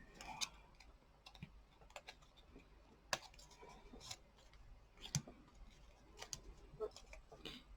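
Scissors snip petals cut from a foam stamp, giving sparse, crisp clicks at irregular intervals, close by and fairly faint against a quiet room, with no talking.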